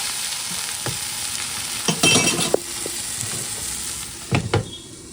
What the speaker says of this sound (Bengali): আর এখানে বেগুন ভাজা হচ্ছে দেখো কত তেল দিলাম